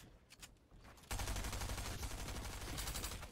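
Rapid gunfire in the Fortnite video game, a dense sustained burst of shots that starts abruptly after a second of quieter sound and carries on steadily at moderate loudness.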